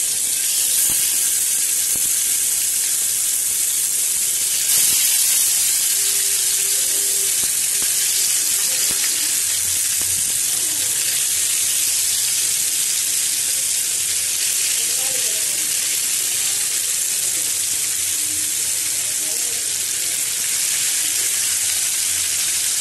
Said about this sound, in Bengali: আমার তেলটা গরম হয়ে গেছে। তো এখানে আমি মাছগুলো এক এক করে দিয়ে